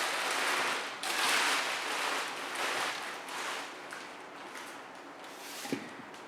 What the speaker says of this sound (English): I'm just digging in my clay bag here.